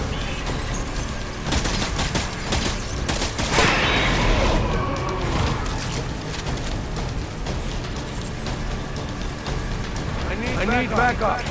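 Gunfire erupts in the video game Death Stranding, loud bursts and rapid volleys packed with sharp cracks and mechanical clatter, mixed with shouted voices and game effects.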